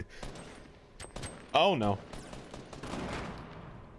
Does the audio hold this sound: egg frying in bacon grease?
no